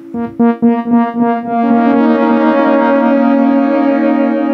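Echo from an Aqusmatiq Audio Dedalus delay pedal: a run of bright plucked tones repeats rapidly, then smears into a sustained, shimmering wash of overlapping repeats that holds steady to the end.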